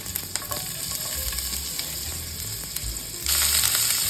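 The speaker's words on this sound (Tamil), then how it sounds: "இப்போ நான் ஆனியன் போடுறேன்" Onion fries in hot oil, a steady close sizzle with occasional stirring scrapes that swells louder near the end.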